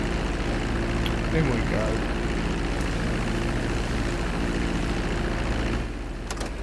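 A propeller plane taxis slowly into a hangar in GTA V, a steady droning engine hum with a low rumble, with a brief spoken line over it.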